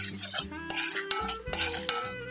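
Fennel, cardamom, cloves, caraway and dried red chillies dry-roasting in a pan, mostly heard as a metal spoon scraping and clinking against the pan in repeated strokes, close and clear, with a faint sizzle underneath.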